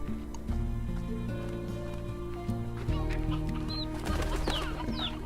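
Chickens cluck in the farming video game Slime Rancher: steady, close fowl clucking and squawks over a continuous game soundtrack, with a few brighter chirps and flaps toward the end.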